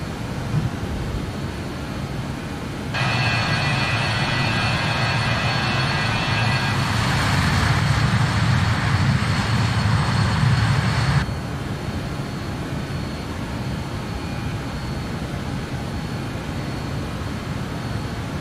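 A JustFlight BAe 146 four-engine regional jet in a flight simulator climbs out after takeoff from Kerry. A broad, steady engine roar swells with a rising turbine whine for several seconds, then settles back to a constant rumble, with no voices.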